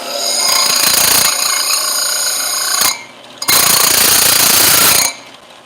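A belt sander dresses a chainsaw guide bar with a loud, harsh, continuous grinding whine. It runs for about three seconds, cuts off briefly, and then roars again for another burst.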